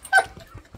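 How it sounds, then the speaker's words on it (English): A hunting dog lets out a brief, close whimpering yelp in a rural Greek setting, a single sharp high cry that fades into quiet. "Especially Apollo because he's a hunting dog"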